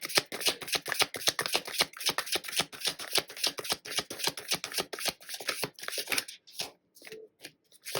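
Tarot cards shuffled by hand in a rapid, even riffling rhythm, close and crisp, running for several seconds before slowing into a few separate slaps and taps.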